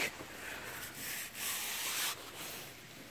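Dug-up 1919 penny rubbed between fingers to clear off dirt, a close dry scratchy rubbing in a few uneven strokes with brief pauses, no talking.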